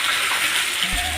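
Mustard seeds and cumin crackle in hot oil as a tempering for chutney alongside pongal prasadam, a close, dense frying hiss lasting about a second.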